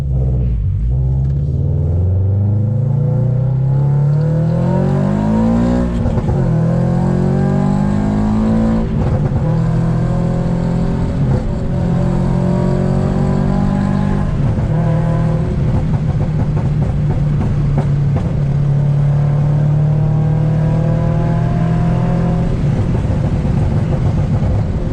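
A Subaru BRZ/FRS/86 with an aftermarket exhaust and a pop tune revs steadily and rises in pitch, rumbling loud and close for a long stretch with no voices.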